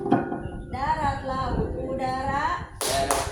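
Two sharp two-hand claps land near the end, following sustained voices, as part of a classroom animal-naming game.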